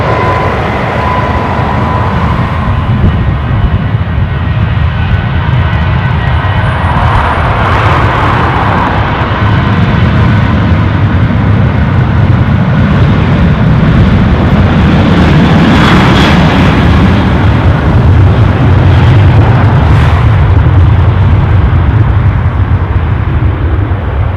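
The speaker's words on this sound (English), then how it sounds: "far side arrival is an Aer Lingus A330 from Amsterdam" An Aer Lingus Airbus A330 airliner arriving at Dublin airport gives a loud, continuous jet roar that swells and shifts as it passes, heard outdoors with steady wind-like rumble and no voices.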